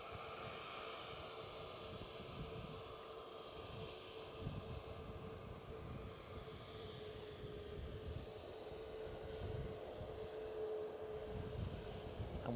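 A WestJet airliner taking the runway at Edinburgh Airport, heard as a faint, steady engine roar from a distance that holds for the whole stretch.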